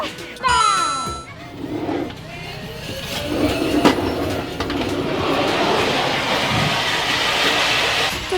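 A rumbling, rattling forest rail coaster ride rolls continuously along its track, with a whirring whine at the start and people's voices faintly mixed in.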